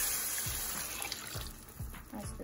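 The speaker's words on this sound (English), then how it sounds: "You're gonna pour your water in here." Water is poured into a pot of rice in a home kitchen, a close, steady splashing gush of liquid lasting a couple of seconds with a few uneven surges.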